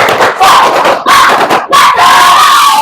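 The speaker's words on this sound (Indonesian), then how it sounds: "Tepuk semangat dulu ya." Indonesian schoolchildren in a classroom shout a rhythmic tepuk semangat spirit chant together, three loud bursts of massed young voices with brief gaps between them.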